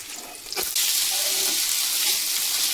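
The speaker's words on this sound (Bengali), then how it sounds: "এখানে পেঁয়াজটা ভেজে নিচ্ছি" Onions frying in a pan while making a green-bean dish, an intense steady hiss that swells suddenly after a brief clatter and then holds loud and close.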